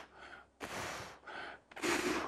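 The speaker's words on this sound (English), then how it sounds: "that's called pursed lips breathing, and it's an indication that there's a problem" A person demonstrates pursed-lips breathing used for recovery in distress: two cycles of soft breathy inhales followed by longer, louder whooshing exhales pushed through narrowed lips, close and with no talking.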